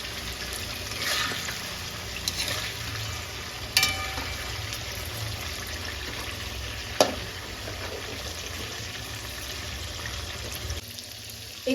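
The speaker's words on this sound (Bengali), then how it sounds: "এখানে চিকেনটা মোটামুটি ফ্রাই হয়ে গেছে।" Chicken frying in a pan gives a steady soft sizzle, with occasional clicks and scrapes of stirring and a brief clatter near the end.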